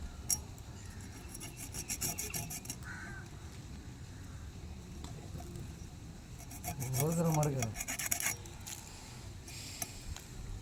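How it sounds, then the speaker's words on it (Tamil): Sea fish being cut and cleaned by hand, with repeated scraping, rasping strokes and knife rubbing at close range, joined partway through by a cawing crow outdoors. "இந்த மாதிரி நம்ம மீனை கட் பண்ணிடணுங்க."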